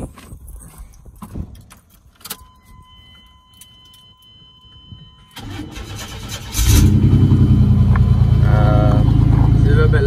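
An old project truck without catalytic converters cranks with clicks and rattles, then fires and settles into a loud, deep idle through a noisy muffler that stays steady to the end.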